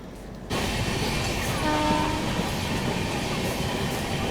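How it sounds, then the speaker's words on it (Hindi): The 12314 Sealdah Rajdhani Express runs on rails near New Delhi, heard from inside a 3rd AC coach as a loud, steady rolling rumble that starts suddenly and continues throughout, with a brief faint tone partway through. "आई गेस अब यहाँ से ये ट्रेन धीरे धीरे ही चलने वाली है"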